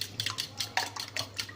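Potatoes seasoned with salt and spices are tossed in a dish, giving a rapid series of close, light clinking scrapes in an uneven rhythm with no talking.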